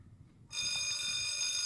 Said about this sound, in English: More mechanical bells.